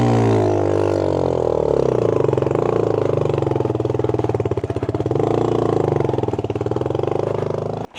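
A motorcycle engine labours on a steep forest track, running loud and close with a steady throbbing drone that dips and swells as the throttle shifts, then cuts off abruptly at the end.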